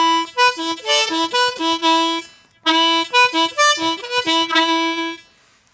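Irish tune phrase played on harmonica with single-note technique, two runs of quick, clear, separate melodic notes with a short gap between them, close and alone with no talking.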